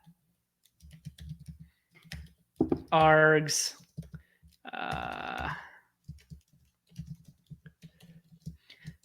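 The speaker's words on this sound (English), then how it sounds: "Typing this out to at least understand it myself." Soft computer keyboard typing in irregular bursts of clicks, close and fairly quiet, broken by a couple of short vocal sounds such as a groan or mumble.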